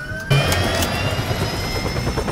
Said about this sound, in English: you should rely on my ability to fly an attack helicopter